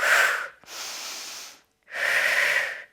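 Deep, audible breaths during a Pilates leg exercise: a long exhale, a quick inhale, then a second long breath out, close and alone.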